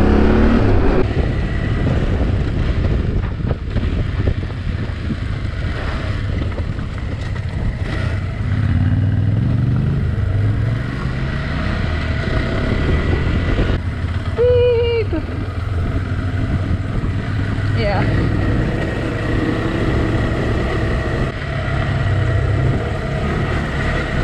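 Yamaha Tenere 700 and KTM 390 adventure motorcycles ridden on a trail, engines droning steadily under wind noise with a few revs and brief muffled voices.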